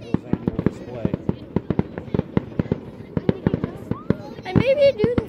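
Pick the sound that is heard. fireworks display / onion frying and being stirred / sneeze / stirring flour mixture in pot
fireworks display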